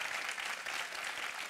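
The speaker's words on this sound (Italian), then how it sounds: "Un bel applauso" Studio audience applause during an Italian TV interview, a steady dense wash of clapping that stays evenly loud throughout without pause.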